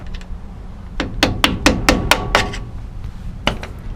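A hammer striking a part at an angle on a 1972 Ford F250 4x4 Highboy with a 390 engine: seven sharp metallic blows in quick rhythm, then a pause and one more pair, loud and close.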